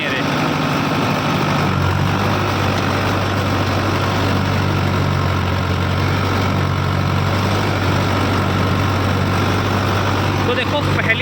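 A 60 HP tractor engine runs steadily at about 1600 RPM, giving a loud, continuous low throb with a strong droning hum close to the microphone throughout.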